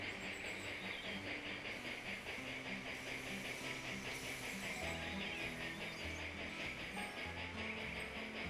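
Train rolling through the Alps in the game Railroad Tycoon 3, a steady dense rumble with hiss and faint rhythmic clatter running continuously and evenly throughout, with no talking.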